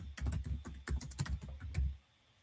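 Rapid keystrokes on a computer keyboard come in short uneven bursts up close, then stop and leave near silence at the end.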